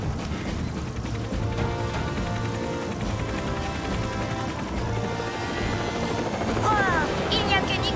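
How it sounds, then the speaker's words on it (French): Cartoon helicopter drones steadily with a rhythmic rotor chop throughout, loud and close, with brief bright sound effects near the end. "il n'y a que Nicolas Prim qui pouvait gâcher notre balade en hélicoptère."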